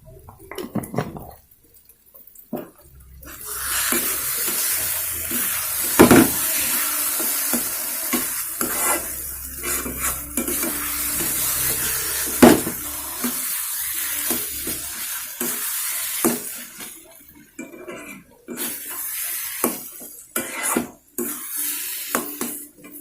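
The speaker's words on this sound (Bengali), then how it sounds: "এবারে এই ওলটাকে একটু ভালো করে শুকনো করে নিলেই মানে নেড়ে ছেড়ে ভালো করে শুকনো করে নিলেই" Boiled elephant foot yam, sweetened with a little sugar, is stir-fried in a pan until dry: a steady, close sizzle with repeated scraping and clacking strokes of the spatula against the pan, and no talking.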